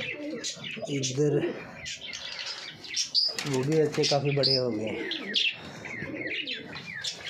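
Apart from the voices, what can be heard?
pigeons cooing and chirping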